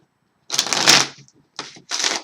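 A deck of tarot cards is shuffled close up, one longer riffle followed by two quick, crisp shorter shuffles in a quiet room.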